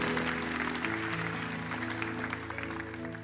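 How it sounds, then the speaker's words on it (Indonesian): A church congregation claps in a continuous wash of applause, with a low sustained musical tone running underneath throughout. "Boleh tepuk tangan lebih meriah lagi"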